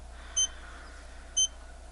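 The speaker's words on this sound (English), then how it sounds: "I'm getting a beep per second now" Two short, bright electronic beeps about one second apart from a Seiko Great Blue 7T62 chronograph alarm dive watch under repair, sounding alone and close over a faint steady hum.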